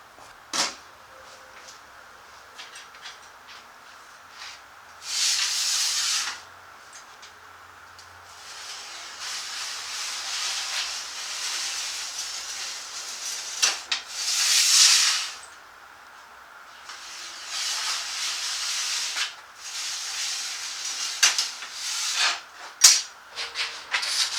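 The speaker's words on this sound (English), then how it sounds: "I just took it down with flap wheel to almost down to the line." A flap wheel grinds down a sheet-metal splash apron for a 1927 Dodge pickup, with several loud, hissing bursts of a few seconds each, separated by quieter stretches with scattered clicks and handling noises.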